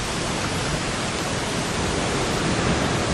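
Dense, unbroken rush of flowing water, like a waterfall or fast stream, holds at a steady loud level from start to finish with no other sounds.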